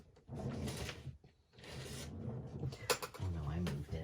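Drawers opening and closing while someone rummages for washi tape, a few close sliding and rubbing scrapes with short pauses between them and soft handling noises.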